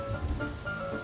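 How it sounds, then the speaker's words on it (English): Rain patters steadily on a house roof, a soft continuous wash of drops with a faint low rumble underneath, close and even throughout with no voices. "water pattering on the roof"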